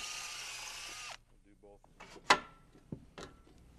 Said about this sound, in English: pre-drill holes to help as a guide when drilling into the shear block